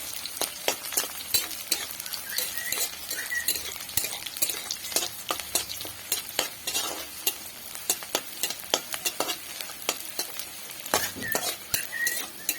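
Chopped onions and three slit green chillies stirred in a pan for a bitter gourd dish, a spoon scraping and clinking steadily against the metal over a soft sizzle, close and continuous with no talking.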